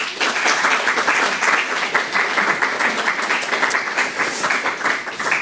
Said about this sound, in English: Please welcome Alfie with a warm round of applause.